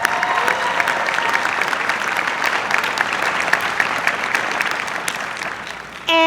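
A crowd applauds steadily at a student academic awards ceremony, a dense, sustained wash of clapping that holds at a loud, even level throughout.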